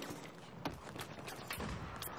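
Gunfire in the shooter game Battlefield 4 crackles in a steady, fairly faint stream of rapid shots, with sharper reports punctuating the din.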